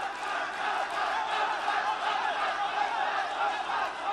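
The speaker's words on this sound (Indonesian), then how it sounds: "tepuk tangan yang meriah untuk pasangan calon nomor urut 4" A large audience at a 2018 South Sulawesi governor candidates' public debate roars and cheers in a continuous, dense wash of voices, loud and unbroken throughout.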